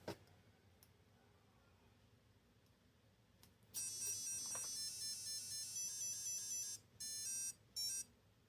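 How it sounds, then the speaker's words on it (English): Quiet room tone, then a loud electronic startup melody from a brushless 1520 motor on a Sequre ESC, steady beeping notes for several seconds, pausing briefly before a few final tones. "The startup sound, you can make whatever kind of little music you want with that motor."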